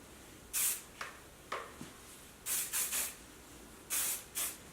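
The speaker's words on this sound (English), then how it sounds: "So I'll just spray my hair in sections." Short hissing bursts from an aerosol can of freezing hairspray sprayed onto long hair in sections, about eight quick puffs in an irregular rhythm, close by in a quiet room.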